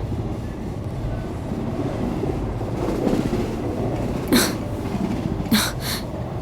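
Steady rumbling clatter inside a moving train coach on a Shirdi-bound passenger train, with a few sharp bursts of noise near the end and no speech.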